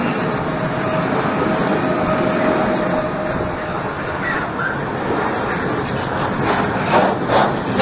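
A train leaving a station on the Katowice to Żywiec route, a loud continuous rumble of rail wheels and carriages with rising noise toward the end, heard up close.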